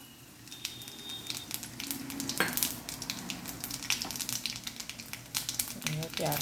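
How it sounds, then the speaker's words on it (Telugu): Chana dal, tempering spices, carrot, ginger, onion, garlic and green chillies fry in oil with a continuous close sizzle, broken by crackles and the scrape of stirring. "వీటితోటి ఆయిల్లో ఫ్రై చేసుకోవాలండి."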